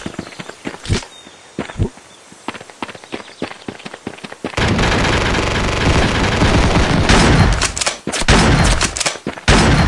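Rapid gunfire from the video game Pixel Grand Battle 3D, with sparse separate shots at first and then a dense, loud sustained burst of automatic fire that runs most of the way through.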